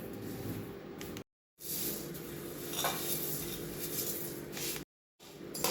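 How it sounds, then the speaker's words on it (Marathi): Coriander seeds dry-roasting in a pan over a low gas flame: a steady close scrape and rattle of seeds being stirred against the metal, broken by two short silent gaps. "कमी गॅसवर धने भाजायचे आहेत"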